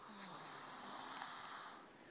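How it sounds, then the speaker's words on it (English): A young boy asleep snores softly in one long, drawn-out breath, faint and close, with a quiet steady background hiss. "Listen to this snore."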